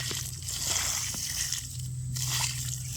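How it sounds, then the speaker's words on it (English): Concentrated blue liquid fertilizer is sloshed around at the bottom of a container while filling a garden raised bed, a close, continuous wet swishing and squishing with a few drips. "When you get to the bottom, you better slosh it around because it's going to be really, really concentrated"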